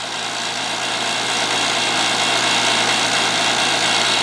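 An Appion TEZ 8 or JB Platinum 7 CFM HVAC vacuum pump runs with a steady, dense mechanical drone and hum, loud and constant throughout, with no talking.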